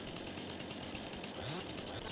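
A chainsaw in the Farming Simulator 22 video game buzzes steadily while cutting up branches, a continuous, fairly faint whine that holds throughout with no talking over it.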